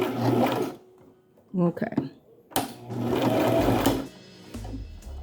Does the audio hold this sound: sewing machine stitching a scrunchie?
yes